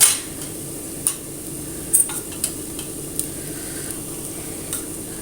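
Turmeric and other spice powders roasting in a hot pan for a roasted-coconut cauliflower curry: a steady soft sizzle broken by scattered sharp clicks and scrapes of a stirring spoon, with no talking.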